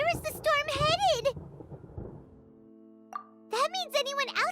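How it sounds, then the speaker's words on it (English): Thunder in Genshin Impact rolls as a low, soft rumble beneath a high, excited child-like voice, then fades out before more speech resumes. "Paimon hears thunder!"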